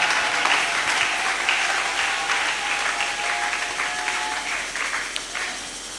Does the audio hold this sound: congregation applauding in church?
yes